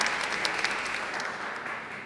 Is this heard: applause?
yes